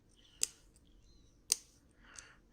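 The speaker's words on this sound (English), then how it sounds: "So I'll take my scissors and start cutting this slowly." Three sharp scissor snips cut through a small plastic gear retention lock from a servo, spaced about a second apart, close and crisp against near silence.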